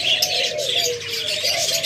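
A pair of lovebirds chirps in a cage at a bird seller's, giving quick, close, high twittering calls that overlap throughout.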